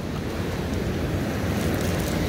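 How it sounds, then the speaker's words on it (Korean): Ocean waves break along the Pacific coast by US Highway 101 on a rainy day, a loud, steady roaring wash of surf mixed with wind rumble, continuous throughout with no voices. "파도가 치는구나."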